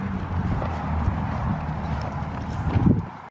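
Several horses whinny and neigh while hooves clip-clop on the ground nearby, a steady busy mix of animal calls and footfalls at moderate loudness.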